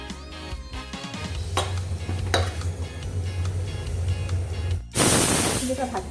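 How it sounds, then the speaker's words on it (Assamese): Hot oil poured over cooked dal to temper it, a sudden loud burst of sizzling near the end, preceded by pan clatter and a low background hum with people talking. "দাইল তেল মাৰি দিলোঁ আৰু হৈ গ'ল"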